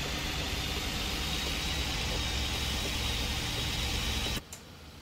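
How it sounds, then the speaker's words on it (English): A Cat 3406E truck engine with a two-speed engine fan in American Truck Simulator, a loud steady rumbling drone that runs continuously and then cuts off abruptly near the end. "Let me know what you guys think of this engine"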